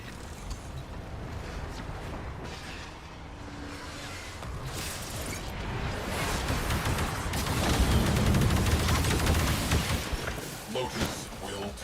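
Torpedoes firing in the sci-fi game Warframe come through as a dense, rumbling barrage of booms and mechanical noise that swells toward the middle, with voices talking over it.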